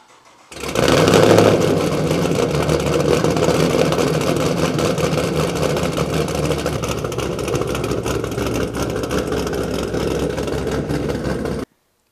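A Chevrolet Camaro that has been raced at a Las Vegas track rumbles loudly as it pulls out into a touchless car wash, with a steady engine drone that holds on for about eleven seconds before cutting off.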